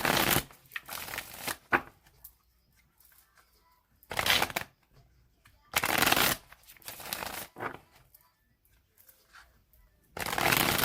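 Tarot cards shuffled by hand in several separate bursts of crisp riffling and flapping, each lasting a second or two, with quiet pauses in between; no voices.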